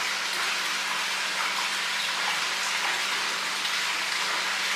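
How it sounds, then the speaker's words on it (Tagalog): Water flows steadily from a pool as a constant, soft, even rush with no voices. "Ang napaka-relaxing talaga makinig ng tubig ay flow of water ba from the pool."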